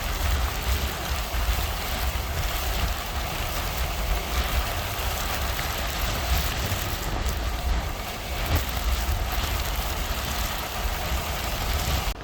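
Heavy rain and hail drumming steadily on a car as it drives through a storm, a dense constant wash of noise over a low engine rumble, with no talking.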